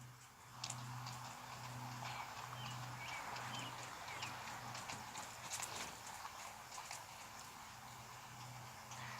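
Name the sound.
horse hooves while cantering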